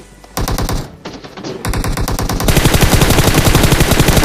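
Rapid automatic gunfire from the mobile battle-royale game PUBG Mobile, loud continuous bursts of rattling shots with brief gaps, intensifying into a dense sustained volley toward the end.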